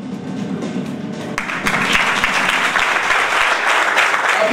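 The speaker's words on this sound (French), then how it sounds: "Applaudissements pour la légende Rigobert Song avec nous" Applause for a football legend visiting a football school in Cameroon, a crowd clapping that swells louder partway through and continues steadily, with a few sharp individual claps standing out near the front.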